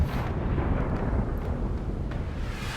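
Ship artillery fires in Pillars of Eternity 2 Deadfire during a naval battle, a heavy, sustained low rumbling boom that rolls on loud and close throughout, with no talking.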